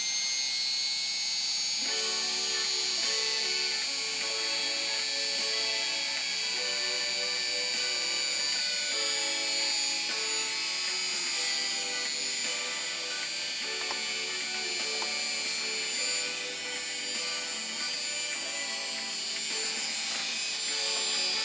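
A Dremel rotary tool runs continuously while cleaning and polishing, producing a steady, close, high-pitched motor whine with slight pitch shifts under load and no talk.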